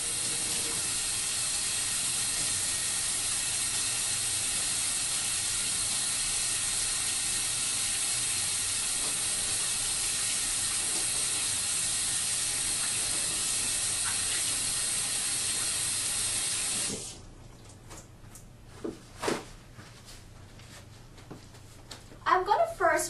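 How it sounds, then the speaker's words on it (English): Warm tap water runs steadily in a sink as hands are washed with soap, a loud continuous hiss that stops abruptly, followed by a few faint clicks and handling sounds. "I'm going to first wash my hands with warm water and soap for 20 seconds."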